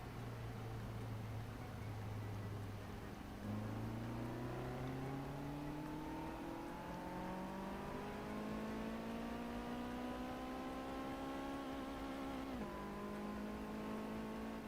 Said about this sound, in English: It's literally the engine sound of 1252.